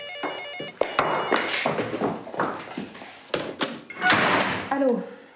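A telephone rings in a home, with repeated short bright electronic ring bursts set among thumps and clatter. A voice speaks briefly over it near the end.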